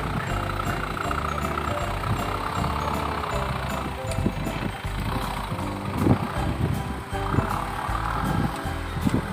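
A heavy four-wheel-drive truck engine labors steadily nearby as it drags a log, rumbling continuously with some louder surges and clanks.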